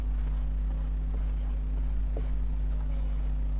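A pen scratches lightly on paper while a maths problem is worked out, with faint intermittent strokes under a loud constant electrical hum.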